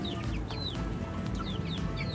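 Several Brahma chickens cluck and chirp in short repeated calls over a low, steady background rumble.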